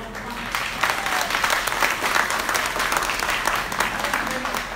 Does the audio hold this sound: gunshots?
no